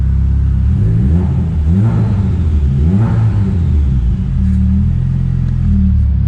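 A Ford Fiesta ST engine with upgraded cams, tuned for about 450 whp, idles loudly and close up just after starting, a steady deep rumble with slightly uneven, lumpy pulses and a couple of small rev swells.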